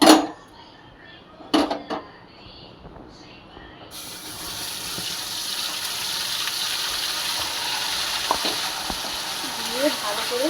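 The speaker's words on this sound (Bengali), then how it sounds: "জিরে সম্বাদ দিয়ে এবার আদা রসুন পেঁয়াজ বাটা দিয়ে" Cumin seeds tempering in hot oil, then ginger-garlic-onion paste added to fry: a few sharp clatters and a quiet stretch give way to a loud, steady sizzle with scattered stirring scrapes.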